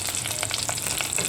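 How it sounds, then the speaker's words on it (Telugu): Prawns with gongura tempering fry vigorously in a pan, a loud, close, unbroken crackling sizzle with brief stirring scrapes riding on top and no voices. "ఈ విధంగా బాగా దోరగా వేగాలి"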